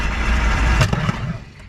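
An old train engine cranks over and tries to catch after a fuel pump and carburetor problem, a loud continuous churning rumble with a brief surge near the end, heard up close.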